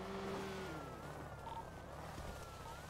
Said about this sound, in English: I hear a pickup car.